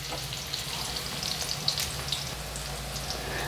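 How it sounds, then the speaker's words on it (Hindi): Onion sautéing in a pan for chili garlic Hakka noodles gives a steady, close sizzle and crackle throughout, with faint scattered pops over a constant low hum. "1 प्याज डालेंगे और इसको अच्छी तरह से हम भून लेंगे"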